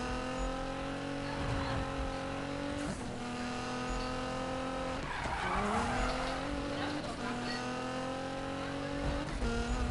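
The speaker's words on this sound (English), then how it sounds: "Look at that, my car spun out, my wheels locked. I hit my my e-brake and my wheels locked out." Tires skid and squeal with locked wheels as a car spins out during a Need for Speed race. The engine drones steadily and loudly underneath, and a voice talks over it.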